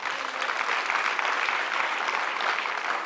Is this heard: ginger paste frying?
no